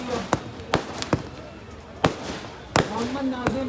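Anar fountain fireworks lit together at a fair, heard as scattered sharp pops and bangs every half second or so with fizzing crackle between them and crowd noise underneath.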